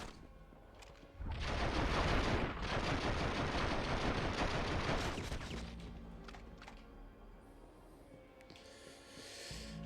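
Sustained automatic gunfire in The Matrix: Path of Neo, a loud dense burst of rapid shots lasting several seconds before fading into scattered game effects and background din.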